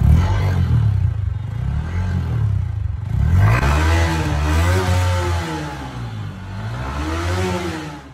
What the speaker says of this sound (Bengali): এখন বাইকটির এক্সস্ট নোটটি একটু শুনে নেওয়া যাক।